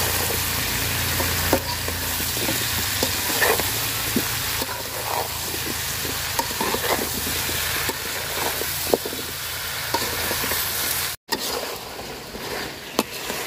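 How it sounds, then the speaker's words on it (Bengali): Bottle gourd curry with onion, salt and turmeric fries and is stirred in a pan, giving a steady loud sizzle throughout with scattered scraping stir clicks and a brief break near the end. "তো লাউ তরকারি আমার সুন্দর কষানো হয়ে গেছে, সুন্দর করে কষায় নিচ্ছি।"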